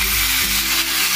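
Loud, steady sizzling of hot tempering oil poured into besan kadhi curry, a continuous frying hiss with no voices.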